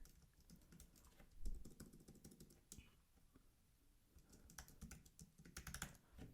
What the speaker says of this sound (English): if I type in here